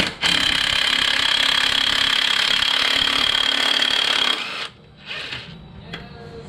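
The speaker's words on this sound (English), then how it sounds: "So we're going to see if the impact has enough juice to" A DeWalt impact wrench hammers loudly and continuously for about four seconds while removing the crank pulley from a C6 Corvette, then stops abruptly, followed by quieter clunks and handling noise.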